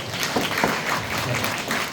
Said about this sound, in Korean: 한번 박수로 축하하겠습니다.